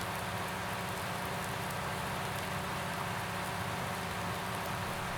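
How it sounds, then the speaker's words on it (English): Steady rain pours in Farming Simulator 19 on a farm, a dense, even hiss of drops on surfaces that holds at constant loudness throughout with no voices over it. "Rain is good."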